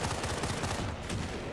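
Rapid gunfire crackles in Battlefield Bad Company 2, a dense run of sharp, close shots firing in quick succession like an automatic weapon, loud and continuous with no pauses.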